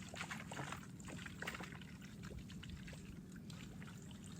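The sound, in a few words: pouring sanitizer solution onto seed-starting container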